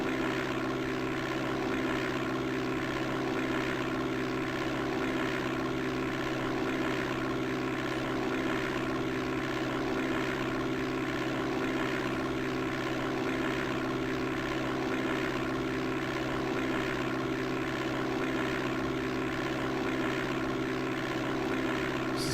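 A propeller aircraft engine holds a steady, loud droning roar with strong humming tones during a takeoff run in the DOS game Flight Simulator 5.1, continuous throughout with no voices.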